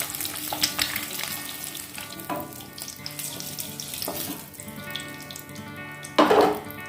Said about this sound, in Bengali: ডিমগুলো হালকা ভেজে তুলে নিলাম